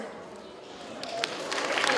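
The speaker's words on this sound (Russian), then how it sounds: "Аплодисменты еще, еще, еще, еще" An audience breaks into applause after the opening karaoke performance at an Open Worlds Day event, the clapping swelling from faint to fuller over a couple of seconds with murmuring voices underneath.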